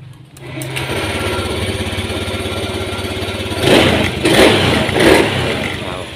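A motorcycle engine, fresh from a crankshaft position sensor replacement, starts up and idles steadily close by, then revs three times in quick bursts.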